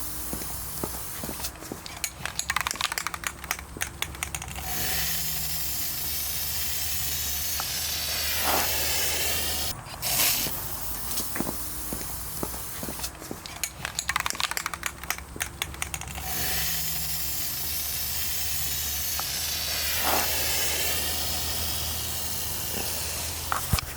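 A spray can lays black base coat paint onto a Lexus's car rims, with repeated close, breathy hissing bursts separated by brief pauses and light clicks.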